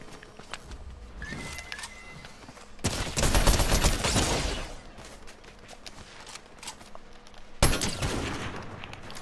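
Gunfire in Fortnite comes as a fast burst of rapid shots lasting a couple of seconds, then a lull and another sharp shot, mixed with game effects and clicks.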